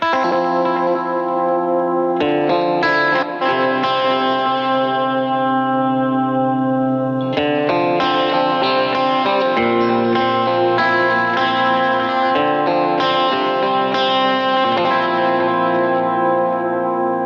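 Clean electric guitar through a Line 6 Helix with stereo chorus, stereo delay and stereo reverb, heavily compressed, playing a continuous flowing sequence of chords and notes with shimmering, echoing sustain; loud and alone.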